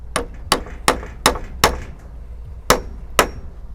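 A builder hammering, with sharp, ringing strikes in a steady run of five, a short pause, then two more, fairly close and loud.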